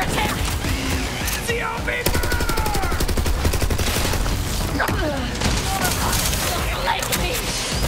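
Sustained automatic gunfire and rapid shots from the video game Borderlands 3 keep up a dense, loud barrage, with game characters shouting over the shooting.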